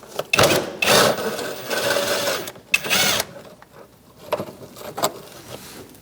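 Ratcheting socket wrench, 10mm socket, backing out a bolt under the front bumper cover of a 2000-2006 Mini Cooper 1.6L; close, loud bursts of rapid clicking in two main spells, then a few sparse clicks and taps.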